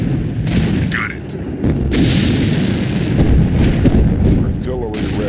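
Heavy booms from WWII artillery and explosions in Sudden Strike 2 at the Anzio docks roll over continuous battle rumble. Shouted voices and whistling effects cut through the dense, loud mix.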